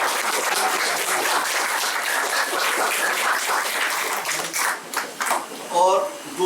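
A room full of people at a farewell party for a senior accounts officer claps in sustained, dense applause that thins out toward the end, close and lively, with a voice starting to speak as it fades.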